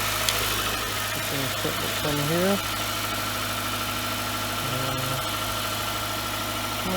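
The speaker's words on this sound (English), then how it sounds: "Engine's running." A car engine idles steadily right after a jump start, a close low rumble with some vibration while someone talks over it.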